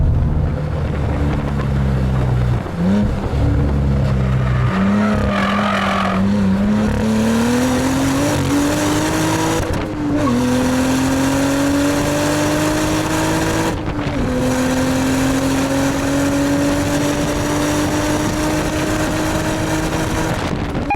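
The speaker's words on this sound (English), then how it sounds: "Nothing like a good 100-mile-an-hour slide." A 2022 Cadillac CT4-V Blackwing held in a 100 mph slide, its engine droning loud and steady and climbing in pitch, with two brief gear-change dips.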